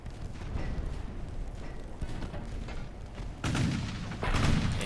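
Naval gunfire in the warship game Ultimate Admiral Dreadnoughts: a rolling rumble of distant shots with occasional sharp cracks, building into two heavy booming salvos near the end.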